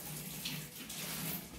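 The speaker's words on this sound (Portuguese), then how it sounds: "Ignora o barulho que tem. Minha filha tá lavando os pratos." A kitchen tap runs steadily while dishes are washed at the sink, a continuous close water rush with faint clinks, no voices.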